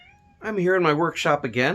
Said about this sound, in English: you can hear my daughter's cat down there meowing.